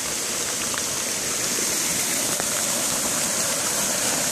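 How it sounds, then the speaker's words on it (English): Water pours over an old flume dam during a flood, a steady, broadband rushing roar that stays constant and close throughout. "Listen to that waterfall."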